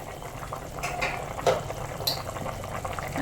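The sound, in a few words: jackfruit seed curry boiling in a pot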